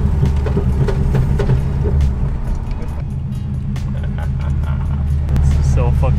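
A BMW with a swapped-in LS3 V8 engine rumbles steadily and loudly as it drives off, with people talking over the engine.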